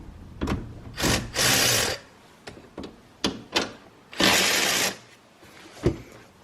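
Two bursts of a ratchet or power tool loosening 12 mm bolts on a 2011-2013 Hyundai Sonata Hybrid trunk battery. Short clicks and clacks fall between the bursts, all close and with no talk.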